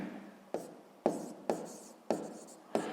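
Pen strokes on paper while a math solution is worked out by hand, five distinct scratchy writing bursts each starting sharply and trailing off, close and fairly quiet with no talk.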